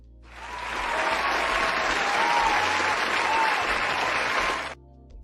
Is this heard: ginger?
no